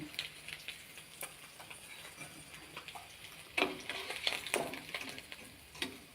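Leftover fish from the night before reheating in a frying pan, giving a faint, steady sizzle with light scattered ticks and stirring clatter, growing a little busier toward the end.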